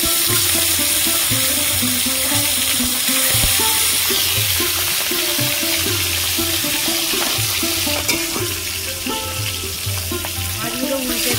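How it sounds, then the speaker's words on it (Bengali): Bhangon fish fry in hot oil in a kadai over a stove, a continuous loud sizzle and crackle with occasional stirring clinks. "তেল গরম হয়ে গেছে, মাছগুলো ভেজে নেব।"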